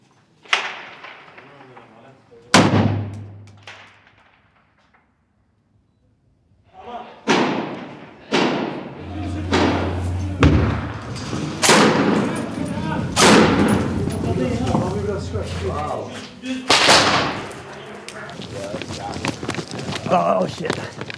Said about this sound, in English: They're shooting from down.